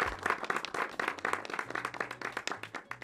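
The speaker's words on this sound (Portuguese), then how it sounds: "Então, muitas palmas pra ela." Studio audience on a Brazilian TV talk show applauds with dense, rhythmic clapping across the whole stretch, steady and fairly close, with a low hum beneath and no speech over it.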